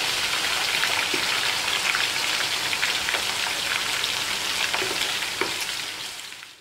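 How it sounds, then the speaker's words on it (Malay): Coarsely pounded galangal fries in hot oil, giving a dense, continuous sizzle with scattered crackles and pops, close and steady, with occasional stirring and no talk. "Kita goreng sampai naik baunya."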